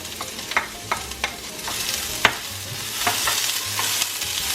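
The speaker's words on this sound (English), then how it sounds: "I have been sauteing the carrots and potatoes for about 3 minutes, and I'm going to add some fresh corn." Carrots, potatoes and fresh corn cut from the cob sauté in a pan, with a steady broadband sizzle under repeated sharp scraping and stirring clicks from a utensil, close and fairly loud, with no talking.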